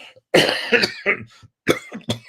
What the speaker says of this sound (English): that's making me cough